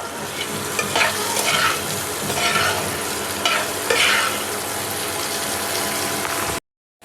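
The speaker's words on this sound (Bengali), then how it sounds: "নুন দিয়ে আমি 1 মিনিটের মতন আমি নাড়াবো।" Papaya and other vegetables stirred with salt in a pan, giving a close, steady sizzle with rhythmic scraping and rustling strokes that stop abruptly at the end.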